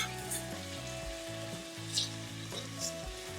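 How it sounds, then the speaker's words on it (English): Onions with slit chilies sizzle steadily in a pan for Goan pork vindaloo, a faint continuous frying hiss over a low background hum. "I'm going to fry the onions until it turns slight golden brown"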